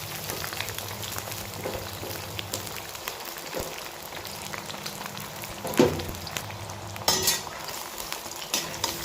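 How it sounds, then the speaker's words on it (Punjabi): Brinjal (eggplant) pieces frying in hot oil, giving a continuous close sizzle with steady stirring and a couple of louder spatters and scrapes. "ਇਸ ਤੇਲ ਦੇ ਵਿੱਚ ਹੀ ਆਪਾਂ ਇਹਨਾਂ ਨੂੰ ਬਤਾਉਆਂ ਨੂੰ ਫਰਾਈ ਕਰ ਲਵਾਂਗੇ"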